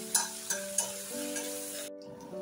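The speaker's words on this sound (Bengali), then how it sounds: "পেঁয়াজটাকে ভালোভাবে নেড়ে নেব ব্রাউন কালার করে।" Chopped onions fry in a pan while being stirred toward brown, giving a soft, steady sizzle broken by a few sharp spoon scrapes and knocks near the start, close and moderately quiet, with no voices.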